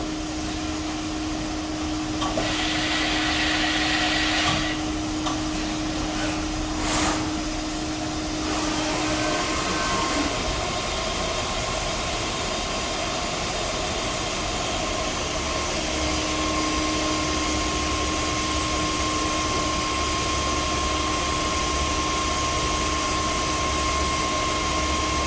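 A Fadal VMC CNC milling machine makes feed movements, its loud, steady mechanical whir and airy hiss filling the space, with a sustained tone that shifts partway through as the axes move.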